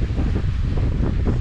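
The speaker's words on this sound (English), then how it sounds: "Very windy" Strong wind on a golf course in Hullathy, Ooty, rumbling steadily across the microphone in a brief, loud, unbroken burst with no voices.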